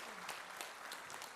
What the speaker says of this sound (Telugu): అందరూ ఒకసారి గట్టిగా క్లాప్స్ కొట్టాలి